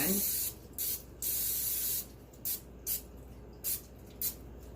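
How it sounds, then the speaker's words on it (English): Cooking spray misted onto a bread loaf pan in a home kitchen, several short hissing bursts, two longer ones then a run of quick squirts, close and clear with no talk. "That pan is done. And then I'm going to spray my other one."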